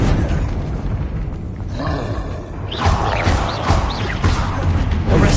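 Confringo blasting spell going off in the Hogwarts Legacy video game, a series of loud booming bursts and crashes amid dense, roaring combat noise.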